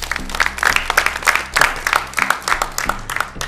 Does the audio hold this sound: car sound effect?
no